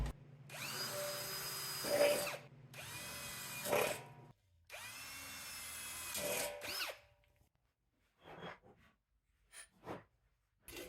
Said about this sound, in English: I got a 1/4 inch bit in there that I'm going to use to drill 1/4 inch holes every 1/2 inch around the top edge